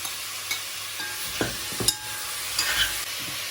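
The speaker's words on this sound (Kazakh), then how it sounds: "Морковтың сарымсақты бірге қуырамыз." Carrots and garlic frying together with meat in a pan for lagman, a steady sizzle broken by a few scraping stirs and clinks from a utensil, close and clear with no speech.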